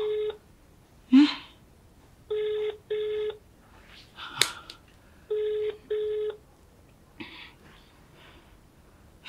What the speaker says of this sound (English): pick your call now. Pick your call.